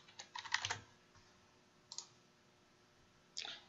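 Computer mouse clicking while using Quizlet flashcards, a quick cluster of soft clicks followed by two isolated clicks, close and quiet.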